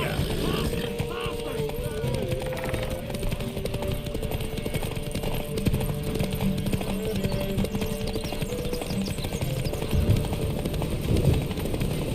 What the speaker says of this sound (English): Horses are antsy.